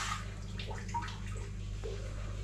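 Water runs into a cooking pot while a gulai with kadok leaves and snakehead fish is being made, a soft splashing gurgle over a steady low hum, fairly faint and without talk.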